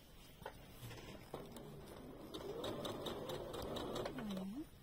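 A sewing machine runs a straight stitch along the short edge of a reversible fabric bag, a steady mechanical whirr and patter picking up speed, while someone speaks softly over it.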